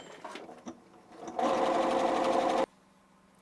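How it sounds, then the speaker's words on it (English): Singer Stylist S18 sewing machine stitching a maximum-width zigzag at 1 mm stitch length with the bobbin tension too tight: a few quiet clicks, then a loud, close, steady rapid whirring run of just over a second that stops abruptly. "So we're going to try a zigzag and see how that looks."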